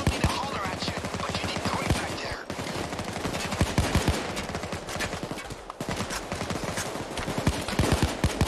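Rapid automatic gunfire in the Payday 2 video game, dense bursts of shots with brief pauses, loud and close, with a voice talking at times.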